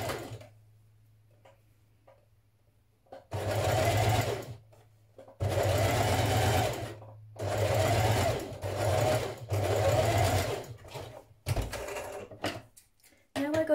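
A sewing machine stitches a dart on the back piece of a 1960s vintage dress in several loud, whirring runs separated by short pauses, with faint clicks and handling between bursts.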